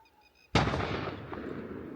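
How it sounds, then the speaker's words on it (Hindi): A single firecracker set off by villagers at night near a Jim Corbett area village, a sudden sharp bang from a distance followed by a long echoing rumble, heard after a few faint tones. "एक गांव वाले पटाखे बजा रहे रात को।"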